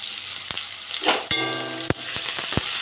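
Onions and green chillies fry in hot oil in a pan, a steady close sizzle broken by several sharp clatters and scrapes of a utensil stirring against the metal.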